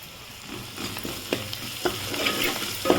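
Mint, ginger paste and turmeric sizzle in a hot pan for khichdi while a spoon scrapes and stirs in several quick strokes, close and clear with no talking.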